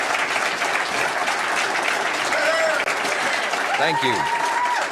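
Audience applause at a political speech to Albertans, a steady dense clapping through the whole stretch, with the speaker briefly saying thanks over it.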